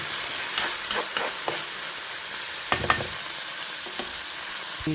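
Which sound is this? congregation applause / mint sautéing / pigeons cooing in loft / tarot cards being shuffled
mint sautéing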